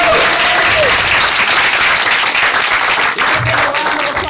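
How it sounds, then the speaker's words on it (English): A crowd claps steadily for a jazz quartet at a Black History Month arts event, with sustained, full applause throughout and faint voices mixed in. "give a round of applause for our jazz quartet"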